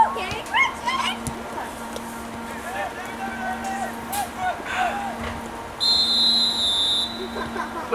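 A shrill referee whistle blasts for about a second near the end of a men's college soccer match, over crowd noise and a voice talking.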